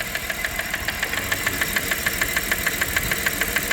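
A 1997 Dodge Caravan LE engine idling with a steady, rapid metallic knock from worn rod bearings, a regular ticking beat over a constant engine drone, heard close up.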